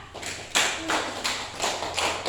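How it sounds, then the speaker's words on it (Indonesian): Classroom applause for a student group, with a few scattered, uneven claps and taps coming in separate bursts, close by and fairly sparse, with no talk. "Oke, tepuk tangan untuk kelompok 2."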